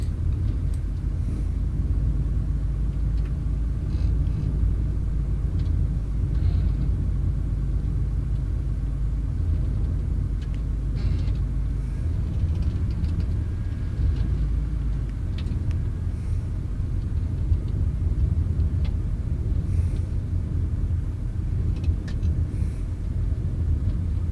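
A military vehicle engine in the ArmA 3 video game rumbles steadily and loudly throughout while driving, a continuous low drone with no breaks.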